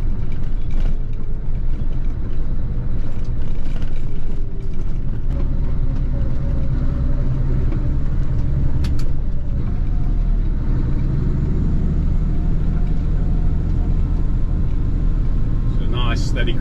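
A vehicle engine held in manual fifth gear while climbing a hill at a steady crawl, giving a continuous low rumbling drone from inside the cabin, with occasional knocks and clicks and people talking over it.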